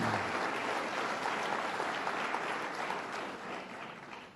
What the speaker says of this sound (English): Let's ask them to stand and give them one more round of applause to show them our appreciation.